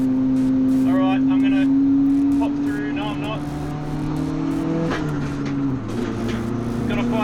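A light, weight-stripped car with a small 1.5 litre engine pulls hard around a race track, its steady engine drone rising and shifting in pitch as it accelerates, with someone talking over it throughout.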